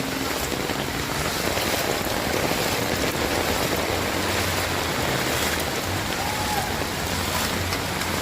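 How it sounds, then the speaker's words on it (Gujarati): Heavy rain pours onto a flooded street in Surat, a dense, loud, continuous roar of drops splashing on water with no pauses. "ચાલુ વરસાદમાં લોકો વરસાદની મજા પણ માણી રહ્યા છે."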